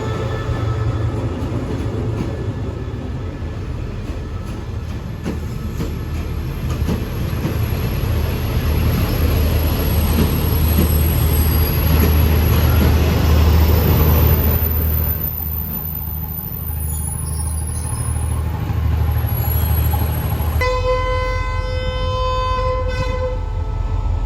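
Thai passenger train 86 running at night with a long 19-car consist, loud steady rumble and clatter of wheels on track close by for the whole stretch, a horn note sounding near the end.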